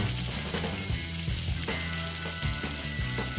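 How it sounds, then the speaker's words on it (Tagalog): Salted pork tenderloin frying in a pan, a steady close sizzle with intermittent knocks and scrapes from stirring, no voices over it. "Yan, iprito po natin."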